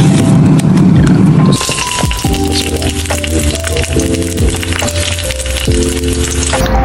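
Breakfast sizzling in a frying pan, a steady loud hiss with scattered crackles and pops throughout, while music plays over it.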